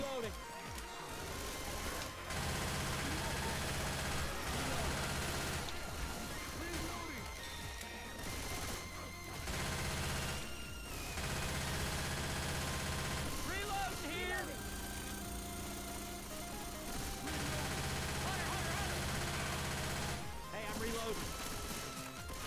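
Dense gunfire in Left 4 Dead on Swamp Fever as zombies are shot, rapid repeated bursts and crashes over a constant engine-like drone, with a person talking throughout.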